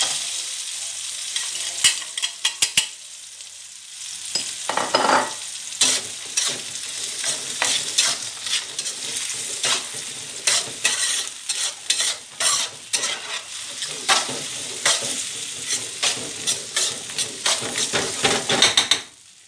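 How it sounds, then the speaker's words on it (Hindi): Vegetables frying in a paella pan while a utensil stirs and scrapes against the metal, giving a busy run of clicks and knocks over a continuous sizzle for about twenty seconds. "इसे आप 2 मिनट पकने देंगे और हिलाते जाएंगे साथ साथ"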